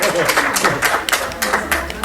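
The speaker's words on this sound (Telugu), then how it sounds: "Very good, claps." A group clapping in quick, uneven bursts for a couple of seconds, close and fairly loud over a noisy room.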